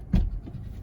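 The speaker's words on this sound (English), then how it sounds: "if I open the door, see what happens." A Mazda CX-30 car door opens with a single brief, close latch clunk followed by a soft, low fading thud.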